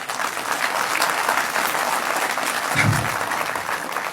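Steady audience applause, a dense unbroken wash of many hands clapping at constant loudness throughout, with no talk over it.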